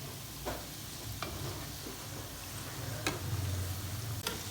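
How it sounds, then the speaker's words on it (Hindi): Chicken nuggets frying in hot oil give a steady, soft sizzle and bubble, with a few sharp ticks and pops scattered across it and no talking. "तकरीबन 3 से 4 मिनट इसे फ्राई होते हुए हो गया।"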